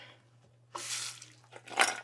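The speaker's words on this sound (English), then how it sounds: "I'm just gonna put a splash of water" A splash of water is poured into a pot in a home kitchen, two short, soft gushing pours close by over a faint steady hum.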